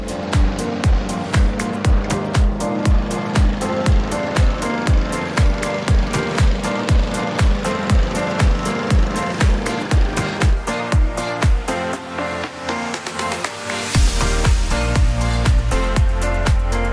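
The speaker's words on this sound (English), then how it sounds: "I'll let you get on with your mowing." Lawn mower working over a Sir Walter buffalo grass lawn, a loud close engine with a fast regular chugging pulse that shifts in tone partway through and then settles into a steadier roar.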